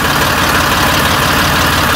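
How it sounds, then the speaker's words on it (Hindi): A Massey Ferguson 8055 Magnatrak tractor's diesel engine runs steadily nearby, a loud, even idle with a low rhythmic throb and no talk over it. "तो भाई आवाज़ देखो इस बार ट्रैक्टर"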